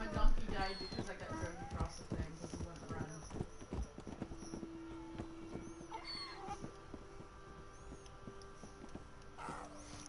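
Donkey hooves clip-clop in a rapid, steady rhythm through a PS4 video game race scene, loud at first and then easing into a continuous patter, with a person talking over the top throughout.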